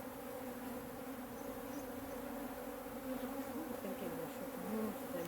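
African honey bees buzz in a dense, unbroken drone as they are moved to another hive after winter, the swarm loud and close throughout.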